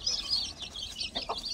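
Free-range country chickens on a grandmother's village farm give a few short clucks and chirps close by, with a soft rustle of wings amid light outdoor noise.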